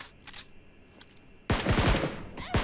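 Gunfire in PUBG Mobile: a few faint, distant shots early on, then a sudden loud, close burst of rapid automatic fire in quick repeated cracks.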